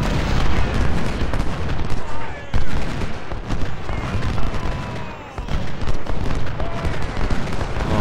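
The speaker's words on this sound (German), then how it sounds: "Wo ist die feindliche Kanone? Bratz die weg" Dense, loud battle noise from the Civil War strategy game Ultimate General: Gettysburg, rapid gunfire and heavy booming cannon blasts overlapping continuously, close and chaotic, with voices talking underneath.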